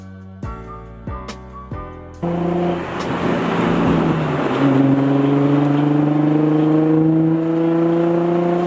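A Nissan 350Z with a Tomei exhaust revs up and accelerates hard, its exhaust note climbing steadily in pitch and staying loud and close after a few short blips.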